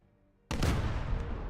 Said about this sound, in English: we're gonna see if I can't empty all of my artillery pieces at these guys